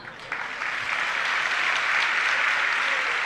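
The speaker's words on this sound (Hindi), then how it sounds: "ताली बज गई ना।" Audience at a live Jain religious discourse breaks into steady, dense applause, rising quickly and holding loud and even throughout, with no voices on top.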